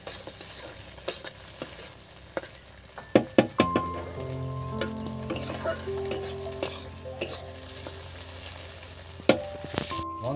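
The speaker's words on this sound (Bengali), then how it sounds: "এবার দেখুন আমি এই ডিমগুলো তুলে নিচ্ছি ভেজে" Whole eggs fry in a pan while being prepared for a brinjal recipe: a soft steady sizzle runs under sharp clinks and scrapes of a utensil against the pan, loudest near the middle and end.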